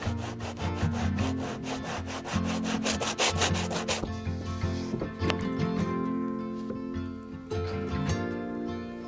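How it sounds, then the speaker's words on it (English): Wood being sanded by hand on a Lyman boat restoration, a close, steady back-and-forth rasp in quick regular strokes that loosens after a few seconds into slower, more scattered rubbing. "I'll sand it a little bit and then I'll check the fit"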